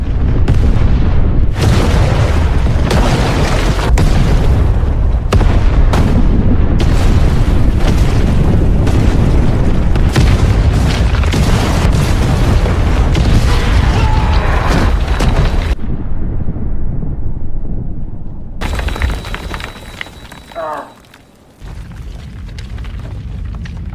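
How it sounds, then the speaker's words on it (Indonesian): A long, heavy rumbling tunnel explosion that roars continuously, then cuts out abruptly, followed by a softer burst and fading low rumble. "kemudian meledakkan terowongannya"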